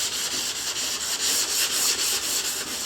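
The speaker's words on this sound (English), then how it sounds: "I'm more just final sanding it to get the surface good and smooth so the paint lays down real nice." Steady wet sanding of a Chevelle body panel, a continuous close-up rubbing hiss with a gentle back-and-forth rhythm and no talk.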